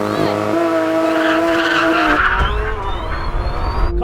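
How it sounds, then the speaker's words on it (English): Tires squealing and skidding at a drag race launch, with racing car engines roaring loudly throughout; a drawn-out tonal screech rises at the start and carries over continuous engine noise. "we're still getting a little bit of wheel spin"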